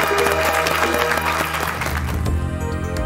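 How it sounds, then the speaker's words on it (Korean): Studio audience applauding to welcome a guest onto a Korean TV antiques appraisal show, a steady wash of clapping with a musical sting playing underneath. "두 번째 의뢰인을 박수로 맞아주시기 바랍니다."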